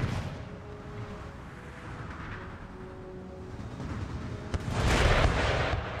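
A howitzer artillery unit fires round shot in the strategy game Empire Total War, heard as a deep booming blast near the end over a low battlefield rumble and crowd din.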